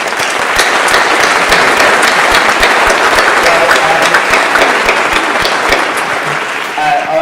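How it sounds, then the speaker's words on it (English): Sustained audience applause at a government innovation conference, loud and dense with many hands clapping steadily throughout, tapering slightly at the end. "round of applause for Vivek"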